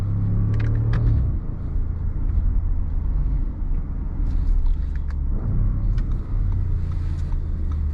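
A 2025 Audi SQ8 with a 507 hp V8 engine driving at night, a steady deep engine rumble after a downshift, heard from inside the cabin with no one talking.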